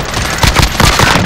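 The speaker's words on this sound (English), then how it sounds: "Submachine gun!" Submachine gun fire in the battle royale shooter Call of Duty: Warzone, a loud, close, rapid rattle of evenly spaced shots running for just over a second.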